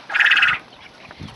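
A Coturnix quail rooster crows once, a short, buzzy, rapidly pulsed call close by, then gives way to quiet windy outdoor background and a soft low thump.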